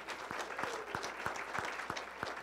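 Audience applause at a 2019 university alumni recognition ceremony, a steady wash of many hands clapping with a few sharper individual claps standing out, moderately loud and continuous throughout.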